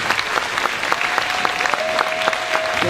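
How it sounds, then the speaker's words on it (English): An audience at a middle school honor band concert applauds the school principals, a steady sustained clapping from a full hall with no break. "please stand up so we can give you a round of applause"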